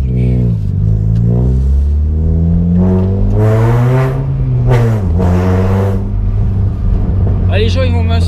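Peugeot 106 S16 driving slowly through a residential area, its engine note rising and falling through a few gear changes, close and loud with a strong low hum, while someone talks over it.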